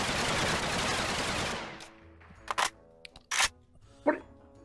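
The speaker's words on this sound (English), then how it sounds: "You can't shoot your guns in public." Guns fired in a public place, a loud sustained burst of rapid shots fading out, followed by several separate sharp bangs spaced apart.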